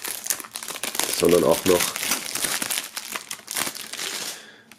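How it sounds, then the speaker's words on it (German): A CD bundle is freed from its plastic packaging with crisp, close crinkling and rustling of the plastic, while a person talks over it. "das Ganze mal aus dem Plastik befreien und uns dann im Detail ansehen."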